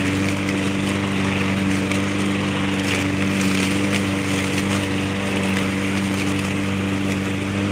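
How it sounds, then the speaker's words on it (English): Lawn mower running while mowing around rocks in a yard, a loud steady engine drone with a constant tonal hum that holds throughout with no talking. "I'll talk a little bit louder so maybe y'all can hear me through the scream of the lawnmower."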